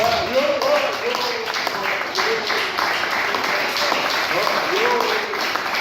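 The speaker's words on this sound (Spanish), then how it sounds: "Un aplauso a Cristo" A church congregation applauds in a continuous, steady wash of clapping while a voice keeps speaking or calling out over it.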